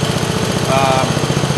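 A John Deere 111 lawn tractor engine runs steadily, driving a water pump, with a loud, even idling putter and a fast, regular pulse throughout.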